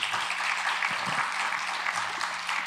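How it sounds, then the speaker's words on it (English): Steady, dense applause from a forum audience thanking mayoral and council candidates, sustained and even throughout with no voices standing out. "let's give them a round of applause"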